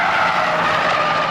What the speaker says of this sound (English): Stig's kicked the tail out. Look at the inside tyre smoking